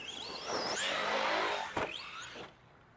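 Arrma Granite 3s BLX brushless RC basher truck driving hard on rough ground, its motor whining and rising in pitch as it throttles out after a bounce, loud and close, ending in a brief bump.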